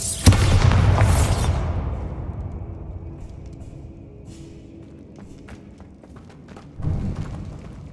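A Bombarda spell blasts in the game Hogwarts Legacy, a loud booming explosion at the start that rumbles and decays over several seconds, followed by a softer second thump near the end.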